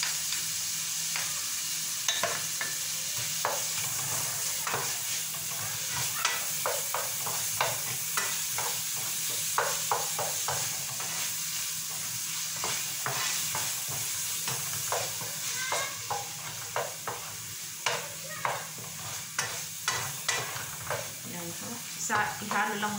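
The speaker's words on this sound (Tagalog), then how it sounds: "Sa ihalo lang muna natin ang mabuti guys." Tomato paste is stirred in a frying pan, a steady sizzle and hiss under repeated scraping strokes of a utensil, growing sharper and more rhythmic toward the end.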